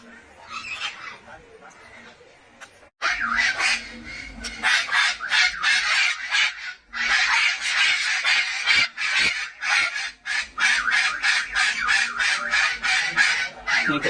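Rare parrots squawk loudly near a group of tourists, giving dense, repeated harsh calls in rapid bursts for most of the stretch, with voices mixed in among them.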